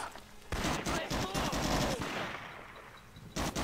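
Rapid bursts of automatic gunfire in the video game Medal of Honor: Rising Sun, Guadalcanal level, crackle loudly for a couple of seconds, fading into a tail, then a fresh shot at the end.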